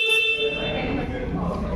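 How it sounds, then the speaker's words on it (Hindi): A single sustained horn honk from a Royal Enfield Classic 650 twin-cylinder motorcycle blares up close, bright and slightly buzzy, lasting under two seconds. "तो एक बार इसका हॉर्न सुन लेते हैं।"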